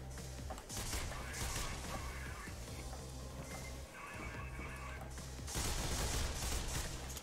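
Rapid gunfire bursts from the Mirror's Edge video game, near and loud with a dense, continuous rattle of shots and a brief break midway before heavier fire resumes.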